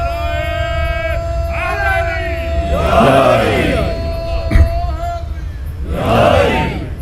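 A gathered crowd answers a cleric's call with loud unison chanting of salawat, swelling in two or three bursts around a speaker amplified through a reverberant sound system.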